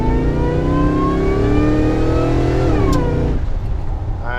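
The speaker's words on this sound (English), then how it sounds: "It's just something about the supercharger whine." A restored and modified supercharged Chevy Thriftmaster pickup engine revs up loud and close, its pitch climbing with a high supercharger whine layered over the exhaust roar before it drops off sharply near the end.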